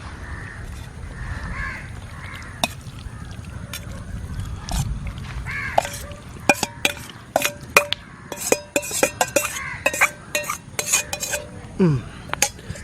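Metal spoon scraping and clanking against a pot as thick tapioca biryani with meat is stirred, irregular knocks and scrapes close by, with crows cawing in the background.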